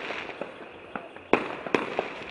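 Fireworks at a Diwali celebration in Suva: a few sharp bangs and crackles ring out over steady background noise, with two louder bursts toward the end.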